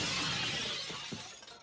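A glass table shatters, a bright burst of breaking glass that starts loud, then thins into a few scattered tinkling fragments and small knocks as the pieces settle.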